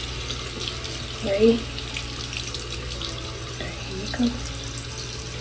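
A bathroom sink faucet runs steadily for toothbrushing as a continuous hiss of water, with brief soft voices talking over it.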